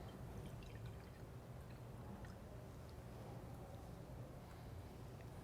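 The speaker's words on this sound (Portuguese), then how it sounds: "Vamos colocar água." Water poured into a container during a chemistry class demonstration that simulates water treatment, a faint, steady trickling wash heard alone with no voices.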